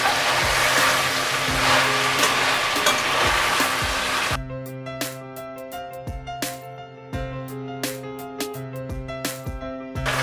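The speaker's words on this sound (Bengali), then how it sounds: "আমার মাটন হেড কারিটা ভাজা ভাজা হয়ে গেছে, দেখুন তেল ছেড়ে গেছে আর ভাজা ভাজা হয়ে গেছে।" Goat head curry frying in oil in a pan, a loud dense sizzle for the first few seconds that suddenly drops to softer crackling with scattered sharp pops and spatters.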